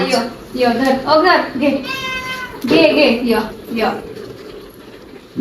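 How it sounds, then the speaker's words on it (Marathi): A cat meows several times up close, drawn-out and whiny, interleaved with people and someone talking nearby. "मांजर आले बघा खायला"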